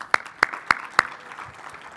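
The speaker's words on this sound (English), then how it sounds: "Please give a round of applause to our co-chairs." A handful of sharp, evenly spaced claps ring out at the IRF Summit 2022 civil society congress, four crisp hand strikes about a quarter second apart, then a quiet room hum.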